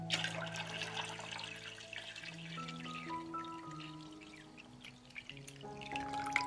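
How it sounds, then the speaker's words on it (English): Water is poured into a cloth-lined pot holding glass jars, a steady liquid rush filling it to lid height, set against sustained background music with no voices. "I pour water into the pot up to the height of the lid."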